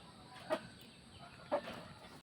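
Native chickens kept for sale give two short, faint clucks about a second apart over a quiet background.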